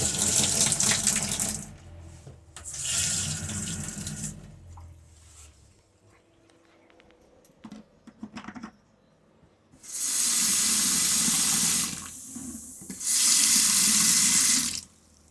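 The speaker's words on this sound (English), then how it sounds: "The whole water system's working here." Water running from a faucet into the tub of a 1993 Fleetwood Terry 19E travel trailer, loud hissing bursts that stop and start again, with quieter handling noises in the gaps.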